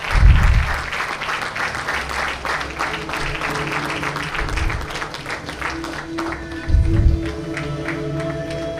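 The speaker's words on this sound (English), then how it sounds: "Let's give a round of applause, and the dignitaries are here lighting the lamp" Applause from the audience at the opening ceremony of an IAU 24-hour Asia and Oceania running championship in India as dignitaries light the lamp, with sustained crowd clapping, low bursts of bass, and a steady tone running underneath.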